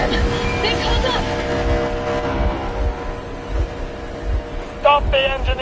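In the Metro video game, a heavy vehicle engine rumbles steadily with rhythmic low thumps and mechanical clatter, loud and close, while voices speak over it.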